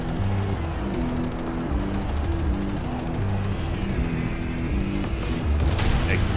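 Planetside 2 battle din of explosions, rapid gunfire and aircraft overhead, loud and continuous with a steady rumbling bed and repeating mechanical bursts.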